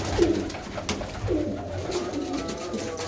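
Fancy pigeons kept by a Punjabi pigeon breeder coo in soft, low, throaty rolls, two or three close phrases heard alone with no talk.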